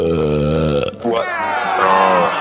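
A long, loud, wet belch with gurgling, drawn-out tones, close to the mic and alone, breaking off about a second in before a rougher, bubbly second stretch.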